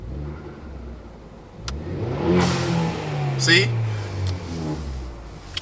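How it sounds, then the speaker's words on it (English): A Ford Focus ST engine revs up in rising, sustained pulls that swell loudly and settle back, with someone talking close by over the engine. "I'm gonna rev the car"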